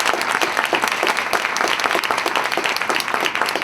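Steady, dense applause from a luncheon audience, loud and continuous for the whole moment, with no pauses or speech on top.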